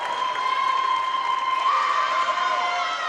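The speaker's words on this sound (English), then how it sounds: "You can hear the crowd just absolutely electric with that finish." Crowd noise at the finish of a women's futsal gold-medal final between Ontario and Quebec at the Canadian Championships, a loud continuous roar with a sustained whistle-like tone running through it.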